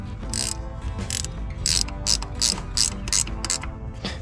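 A ratchet wrench clicks rapidly while bolts are snugged on a new high-torque starter for a John Deere 3020 tractor, loud close bursts of ratcheting with brief pauses between strokes, no talking.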